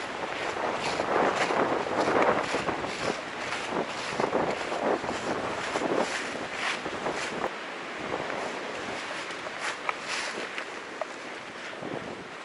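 Wind gusts on the Appalachian Trail in the Smoky Mountains near Thunderhead, loud uneven surges and buffeting against the microphone that rise and fall across the clip, with no voices.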